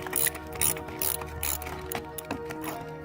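A 1/2 inch ratchet tightens a battery terminal on a '99 Jeep, giving off a close, rapid run of sharp clicking bursts that repeat for a few seconds.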